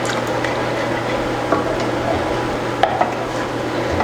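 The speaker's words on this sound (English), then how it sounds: "I'm going to stir this here." A spoon stirs a mixture in a mixing bowl on a home baking day, giving soft wet squishing and scraping with a couple of light clinks against the bowl, close and fairly quiet, without talk.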